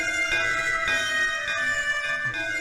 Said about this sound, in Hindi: वो घंटी बजा रही है।